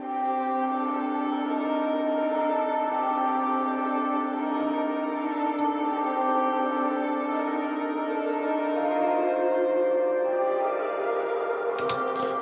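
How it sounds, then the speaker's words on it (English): Electric guitar harmonies drenched in wet effects swell into a sustained, string-pad-like wash, steady and loud throughout with a couple of brief clicks near the end. "I decided to go in a completely different direction with that, as you heard, completely wet, and sort of go for this cool string pad almost sound"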